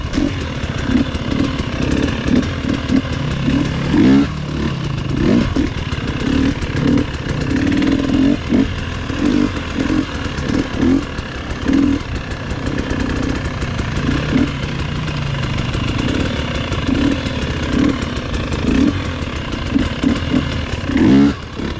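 A 2022 GasGas EC300 dirt bike engine buzzes and blips steadily up close through slow pivot turns, with uneven throttle bursts and no talking.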